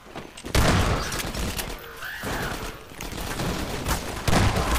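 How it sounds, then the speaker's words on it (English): Combine soldiers fire on the player in Half-Life 2: Episode One, with bursts of gunfire at the start and end and scattered shots between them. "Who's firing at me?"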